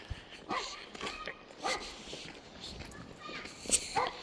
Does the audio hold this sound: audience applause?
no